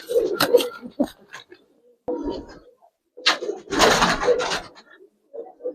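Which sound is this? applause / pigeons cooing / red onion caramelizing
pigeons cooing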